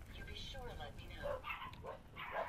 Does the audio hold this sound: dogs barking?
yes